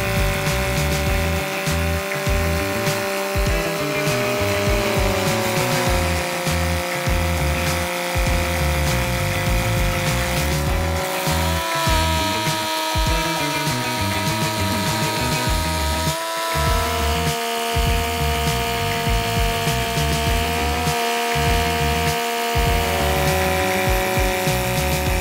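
A Carlton SP7015 tree stump grinder grinds a stump into fine mulch. A loud, continuous high-pitched mechanical whine runs throughout, with a throbbing low rumble and short dips in load.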